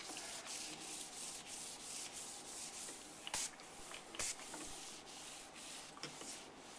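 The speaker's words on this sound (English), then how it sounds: "So set that aside and just continue applying the sealer." Granite sealer rubbed steadily across a stone countertop, a continuous close scrubbing swish with rhythmic strokes and a couple of sharper scuffs, no talking.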